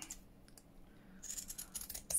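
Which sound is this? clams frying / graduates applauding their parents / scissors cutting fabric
scissors cutting fabric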